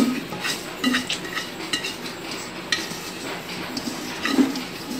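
Rice is mixed with ghee in a pot, giving close scraping and stirring with light metallic clinks of a utensil against the pot, recurring in uneven strokes with no talking.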